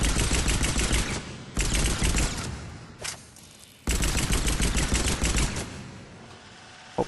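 Eagle pistol in Mass Effect 3 fired at mid-range down the sights, with bursts of loud, close, rapid shots that pause briefly between volleys, each burst cutting off sharply.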